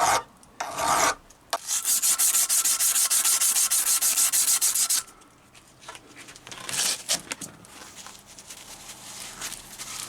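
A file dresses the edges of a Triumph Bonneville T140 front wheel bearing seat, first in a short rasp, then in a long, loud, steady run of strokes, followed by quieter scrapes and tapping.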